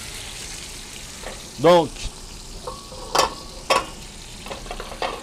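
Courgettes cooking in a pan for a risotto give a soft, steady frying hiss. A few clinks and brief scrapes sound over it, and a voice speaks briefly.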